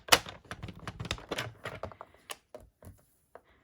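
A paper trimmer scores cardstock for a theatre fold card: a quick run of crisp, close clicks and scrapes, then a few slower, sparser taps toward the end, with no talking.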